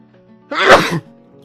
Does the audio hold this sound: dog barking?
no